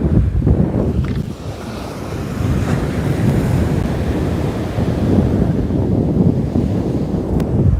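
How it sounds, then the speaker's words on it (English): Ocean surf churns and crashes close by while heavy wind buffets the microphone, a loud continuous roar with surges of breaking water and no voices. "Now this ocean is really starting to pick up a bit, fam."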